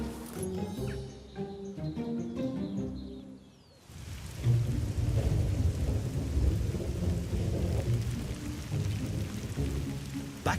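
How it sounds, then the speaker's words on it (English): Rain pours steadily outside a French chateau while thunder rolls in, a soft dripping ambience giving way to a loud, broad rumble that carries on under the continuous hiss of heavy rainfall. "it's been raining for more than an hour, stopping Steve and the stonemason Didier"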